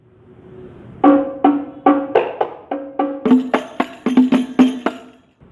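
Banjari habsy frame drums playing a combined pattern, a steady run of sharp, resonant hand strikes building from sparse hits into a denser, louder rhythm with crisp slaps, close and alone without voices.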